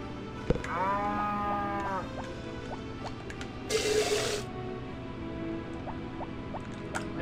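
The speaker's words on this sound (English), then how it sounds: "Beset on all sides by cow." Video game Harvest Moon cows moo in a single clear, wavering call near the start, followed by a short hiss of liquid filling and soft ambient game sounds, with no speech.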